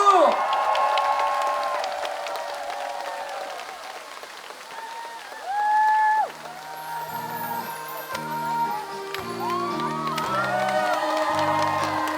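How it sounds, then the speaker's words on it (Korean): Live concert audience claps and cheers for a trot singer, a sustained burst of applause and whoops while a sung melody and backing music start up over it. "박수!"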